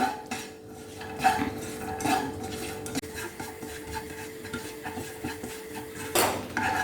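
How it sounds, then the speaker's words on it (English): Two tablespoons of broken cashew nuts roast in a pan, stirred with a spoon that scrapes and clinks against the metal in quiet, irregular strokes. "So let's roast this broken cashew nut."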